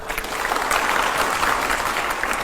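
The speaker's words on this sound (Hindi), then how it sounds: "जोरदार तालियां हो जरा।" Loud, sustained applause from a crowd at a political debate show, dense rapid clapping that fills the space evenly from start to finish, close and without any speech on top.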